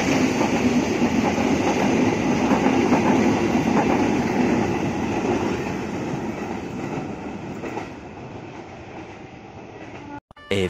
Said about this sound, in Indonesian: saya sedang merekam momen dulu ini melintasnya kereta api luar biasa